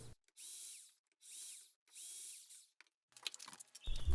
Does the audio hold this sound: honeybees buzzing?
no